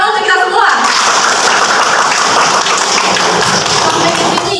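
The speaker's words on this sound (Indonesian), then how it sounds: "Tepuk tangan untuk kita semua" Classroom applause in a micro-teaching maths lesson, loud dense clapping from a group that starts abruptly and carries on steadily, with some talk underneath.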